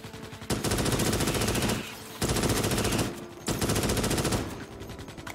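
Machine gun fire from the video game Starship Troopers: Extermination, heard as three long, loud, rapid-fire bursts separated by short pauses, close and dense, with no speech.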